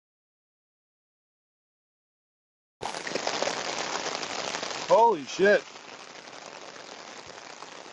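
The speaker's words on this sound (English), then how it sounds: "this rain's really coming down" Steady heavy rain hisses after a sudden start, with a voice exclaiming loudly partway through and a couple of short calls over the downpour.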